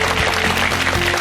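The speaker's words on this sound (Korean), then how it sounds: "여러분, 정의의장님께 큰 박수 부탁드리겠습니다" Applause from an audience for a former National Assembly speaker at a lecture event, a dense, steady burst of clapping with a faint voice underneath.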